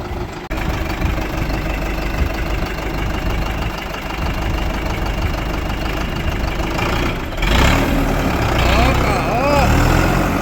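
A new SCOUT TD-1104C tractor's engine runs steadily at a loud, close idle with a knocking diesel rumble, rising slightly near the end, while people talk nearby.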